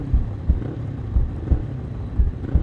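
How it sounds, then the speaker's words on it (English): Low racing car engine rumble with rhythmic surges at Brands Hatch, like motors revving and idling nearby on the grid, a deep pulsing throb repeating roughly every half second. "engines revving"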